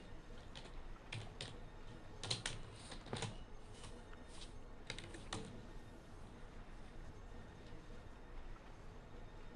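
A name is typed on a computer keyboard, a short burst of quiet, close key clicks in small clusters over the first several seconds, then fading into a low, steady background hum.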